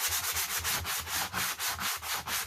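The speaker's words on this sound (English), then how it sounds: "I may need to run a sanding block over that just a hair" Sanding block roughing up a painted wood surface on a small farmhouse-style sleigh, heard as steady back-and-forth scratchy strokes in a regular rhythm, close and alone with no talk.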